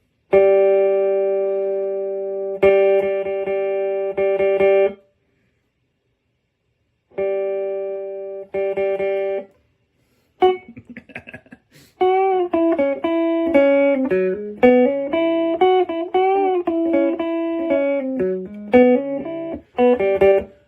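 An electric guitar played through a repaired guitar amp with its chorus effect on: sustained chords ring out, stop, return, then give way to a run of picked notes and chord changes, loud and close with no talking.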